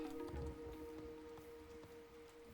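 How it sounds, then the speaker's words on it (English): A rain spell is cast in Age of Mythology, and soft, faint pattering rain falls across the game map, with a low, steady tonal hum beneath it and no voices. "And we'll cast rain."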